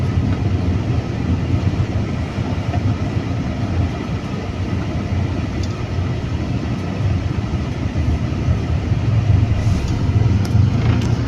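Heavy, steady traffic noise on a four-lane highway in the Philippines that narrows to two lanes, a dense continuous rumble of engines and tyres close by with no pauses and no talking.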